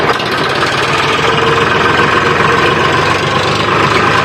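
A loaded tractor's engine runs steadily and loudly close by, a continuous low diesel rumble with a slight knocking texture throughout, no voices, on a farm where soil is being hauled to level a field.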